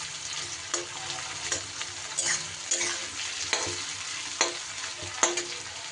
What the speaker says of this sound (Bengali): তেলটা খুব বেশি গরম করে তারপরেই কিন্তু পেঁয়াজটা দিয়ে এই বেরেস্তাটা তৈরি করতে হবে।